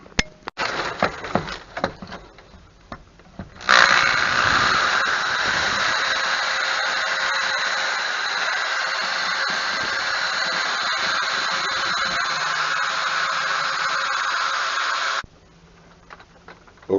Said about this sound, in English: Okay, I drilled my holes, one right there